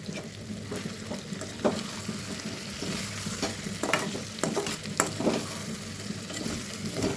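Cumin, ginger and garlic paste hits a hot pan with chicken, sizzling steadily up close while a utensil scrapes and stirs in occasional strokes.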